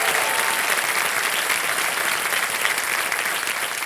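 Full, sustained applause from the studio audience of the television quiz show Kaun Banega Crorepati, Season 14, loud and dense from start to finish with no pauses.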